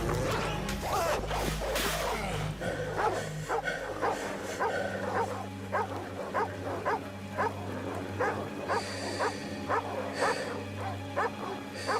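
A dog in the 1996 Resident Evil video game barks repeatedly in a steady rhythm of sharp yips and whimpers, fairly close and clear over a low droning game backdrop with no talk.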